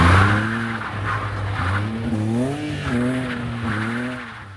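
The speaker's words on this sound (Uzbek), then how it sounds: "aslida sirpanchiq qorda qiynalib qolishi kerak bo'lgan mashina tezlashdi va oldinga harakatlanyapti" A car on Bars tyres accelerates along a slippery snowy, icy road in the cold, its engine revving in rising, wavering sweeps with tyre squeal, loud and close.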